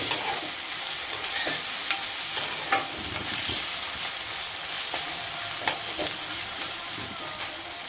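Ginger garlic paste fries in a pan for a drumstick chicken curry, giving a steady, close sizzle broken by scattered scraping clicks as it is stirred; no one speaks.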